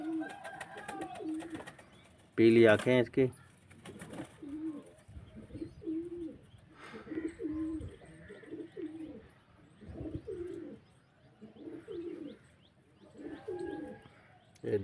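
Pigeons coo repeatedly in a Karachi loft, soft rolling calls close by with a brief burst of wing flapping early on; someone speaks briefly over them.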